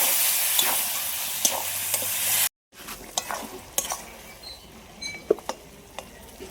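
Water is added to a pan of bottle gourd leaf stems and potato. A loud, bright sizzle cuts off abruptly, then softer bubbling follows with scattered clinks of stirring.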